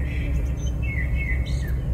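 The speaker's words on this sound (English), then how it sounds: "Listening to bird sounds to calm me down" Birds chirping and singing close by in short bright calls over a steady low rumble, heard from a solo truck-camping trip with no voices.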